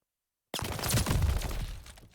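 Call of Duty match gunfire, a sudden loud burst of shots after half a second of silence, merging into a dense, roaring crackle that slowly fades, close and without talk.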